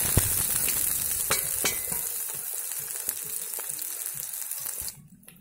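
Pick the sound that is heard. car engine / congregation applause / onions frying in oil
onions frying in oil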